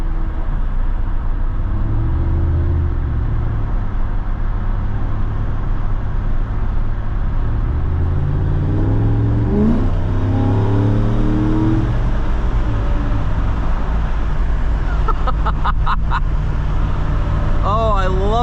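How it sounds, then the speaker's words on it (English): Swapped Toyota 1UZ V8 in a 1982 Toyota Supra pulls hard under acceleration, a loud continuous engine and intake roar with rising pitch sweeps near the middle, heard from inside the car with no talk. "Oh, I love the 1UZ intake noise."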